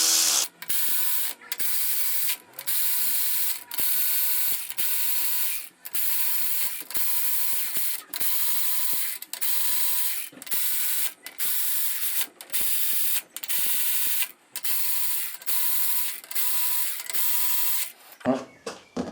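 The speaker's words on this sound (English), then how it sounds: "And then just start tightening things down." Ratchet tightening bolts during a Honda B18 engine cam install, a rapid near clicking in repeated bursts separated by short pauses, loud and close.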